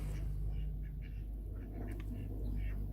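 Indian runner ducks in a vegetable garden, a few quick nasal quacks over a steady low background hum, moderately near, with no voices.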